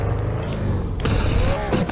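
A car drives in a video game, its engine a loud, steady broadband roar with a shifting whine partway through, filling the whole moment without pause.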